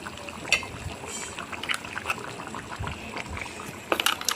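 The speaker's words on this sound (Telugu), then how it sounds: "కొద్దిసేపటికి ఇగో ఇలా మంచిగా మరుగుతుంది కదా" Thick fish curry gravy bubbles at a boil in a pan, with a close, steady stream of soft popping and gurgling bursts and a few louder splutters near the end.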